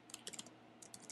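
Quick bursts of keystrokes on a computer keyboard as a file name is typed, a short cluster of taps, a pause, then a few more, faint and close with no talking.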